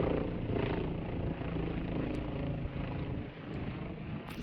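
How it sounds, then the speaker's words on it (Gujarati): A helicopter flying and banking over the mountains near Sonprayag, heard as a steady, loud, close rotor and engine roar that fills the whole clip with no talk over it. "કેવો મસ્ત ટર્ન મારે છે હેલિકોપ્ટર."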